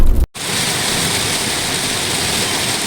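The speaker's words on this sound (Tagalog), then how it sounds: "Grabe, ang lakas talaga ng ulan." Heavy rain pounding a moving car on a drive through Tarlac, a dense, steady roar of water that is loud and continuous, broken only by one brief dropout near the start.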